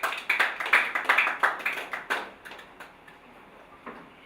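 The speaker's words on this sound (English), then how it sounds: "A round of applause." Sparse applause at a business talk event, a small group clapping in fairly distinct, rhythmic hand slaps that are close and crisp at first, then thin out and fade over about four seconds.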